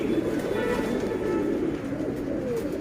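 A loft full of pigeons keeps up a dense, continuous cooing, many birds overlapping into a steady close rumble without pauses.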